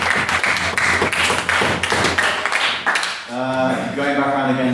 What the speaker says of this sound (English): Go give it a clap.